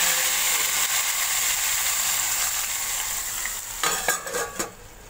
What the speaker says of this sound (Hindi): तड़का लगा देंगे हम इसमें